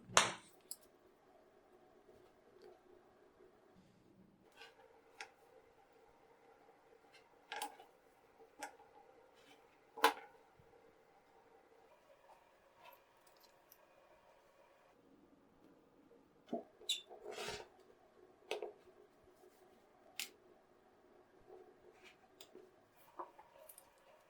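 Scissors snipping fabric pieces for a foundation paper-pieced flower tile quilt block, heard as sparse close clicks and short cuts scattered among quiet handling, with a denser cluster of snips toward the end.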